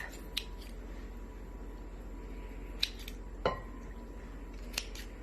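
Faint, sparse snips of scissors cutting through a soft kombucha SCOBY, a few distinct clicks spread over a quiet, hissy background.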